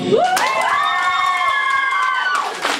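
An audience at a karaoke contest in an agricultural centre cheering for a contestant, with loud, sustained whoops and voices rising in a held, pitched cheer over a crowd bed.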